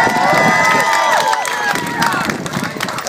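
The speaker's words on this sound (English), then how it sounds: "Please put your hands together for John Minto of the Mana Movement." A protest crowd in the street cheers and applauds for a speaker, a dense, steady wash of clapping, shouts and whistles that stays loud and close throughout with overlapping voices.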